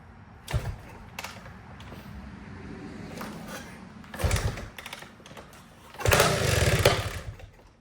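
A 1974 Suzuki RL250 trials motorcycle, unused for 45 years, being kicked over with the choke on: several short bursts of engine noise, the last firing louder and running briefly before dying.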